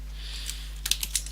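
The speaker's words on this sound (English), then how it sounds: "And now I could just type in cout here" A few quick, light keystrokes on a computer keyboard while code is entered, starting with one isolated tap and then a short cluster of clicks close to the mic over a quiet room hum.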